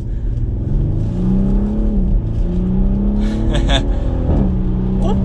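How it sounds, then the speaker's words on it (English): A 2020 Audi SQ5 SUV engine revs up through gears via paddle shifters, the drone rising and dropping, with a couple of crackling exhaust pops near the end. "there's a little pop in that exhaust"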